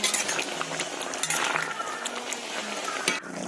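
A spoon stirs and scrapes through a simmering pot of food, with steady soft swishing, faint sizzling and occasional light clinks of metal against the pot, close and continuous throughout.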